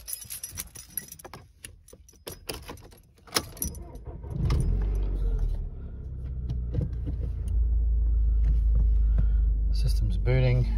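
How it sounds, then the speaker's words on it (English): A Volkswagen Golf GTI is started: keys jangle and click in the ignition, then the engine catches and settles into a steady low hum that swells slightly, with a brief chime near the end. "Now just turning the car on."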